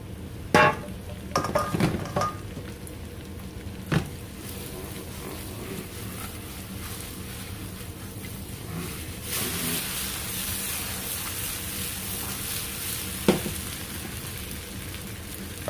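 Butter garlic shrimp sizzling in a pan while being stirred, a steady frying hiss broken by clinks and scrapes of a utensil against the pan, swelling louder partway through.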